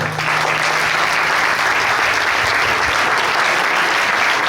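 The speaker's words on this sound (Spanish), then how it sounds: "pido un fuerte aplauso para don Emilio Soriano Alavera" A large crowd applauds loudly and steadily, a dense wash of clapping that holds at full strength throughout with no voices rising above it.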